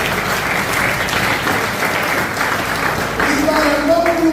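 A church congregation applauds loudly and continuously, a thick roar of clapping throughout, with voices and a faint tone rising under it near the end.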